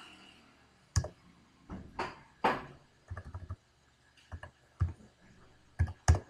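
Computer keyboard keys, including Enter, pressed in a classroom computer lesson: a series of separate sharp clicks with gaps, several louder taps standing out, close and without talk.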